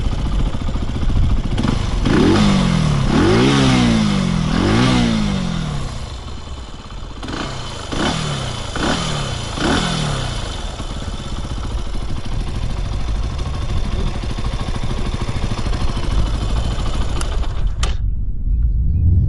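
A Benelli TNT 135 motorcycle engine with a very large muffler runs loudly nearby, revving in several rising bursts before settling into a steady, rumbling idle that cuts off abruptly at the end.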